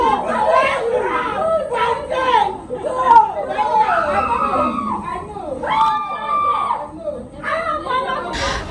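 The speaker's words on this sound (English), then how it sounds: "So there were lots of screaming in class because some chose something they didn't want to choose." Students in a cooking class chattering and screaming, a lively crowd of excited voices with shrieks rising over constant babble, close and loud throughout.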